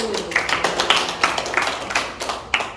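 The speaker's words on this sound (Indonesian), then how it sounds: "tepuk tangan buat kelompok 1" A class gives scattered, uneven clapping for a student group in a school lesson, with a few sharp hand claps standing out from a thin spread of lighter ones.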